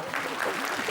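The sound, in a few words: applause for a choir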